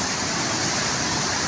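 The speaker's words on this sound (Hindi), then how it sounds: "इसकी कितना पानी का शोर" Steady, dense roar of the Chenab river's water rushing through Qadirabad Barrage, loud and continuous with no breaks.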